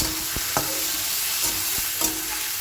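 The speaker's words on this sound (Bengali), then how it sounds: "এর মধ্যে আমার পেঁয়াজগুলো ভাজা ভাজা হচ্ছে" Chopped onions frying in oil with whole garam masala, a steady broadband sizzle with several sharp scrapes and knocks as the pan is stirred, close and alone without voices.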